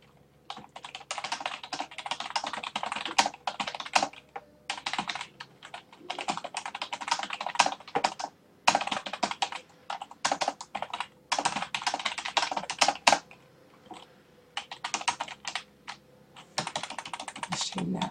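Steady bursts of typing on a computer keyboard, close and crisp, with rapid clattering keystrokes broken by short pauses while writing sentences.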